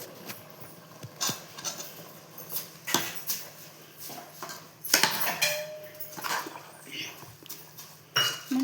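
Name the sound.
mixing washed rice with masala in pot for menthe bath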